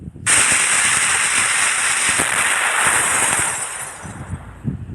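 A firecracker lit with a burning mosquito coil on a long stick sets off a sudden loud blast. Sustained crackling hiss follows for several seconds, then fades into scattered pops.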